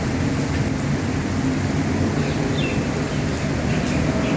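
Heavy rain falls during a hailstorm as a dense, continuous hiss, loud and close, steady across the whole stretch with no voices.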